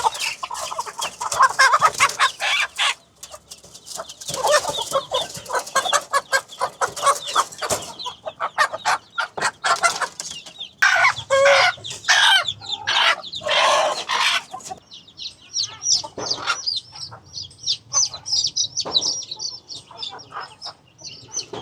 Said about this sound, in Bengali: এই পাঁচটা এতটাই মগা মুরগি যে ওদেরকে ছাইরা দিলে ওরা বের হয় না।